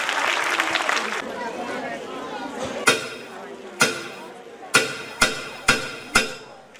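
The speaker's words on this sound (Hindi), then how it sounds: "तो जोरदार तालियों की गड़गड़ाहट के साथ इनका स्वागत कीजिए" Audience clapping at a school annual function greeting performers, a broad wash of applause and crowd chatter that fades, followed by several sharp, loud percussive hits spaced about a second apart.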